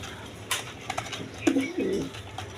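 Low, throaty German Beauty pigeon coos, two short rolling calls close by from a big-sized pair, with a few light taps and rustles around them.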